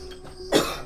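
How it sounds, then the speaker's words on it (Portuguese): A single short, harsh cough from someone in a smoky place, close and fairly loud against a quiet background. "Quanto mais você tosse, pior piora a garganta."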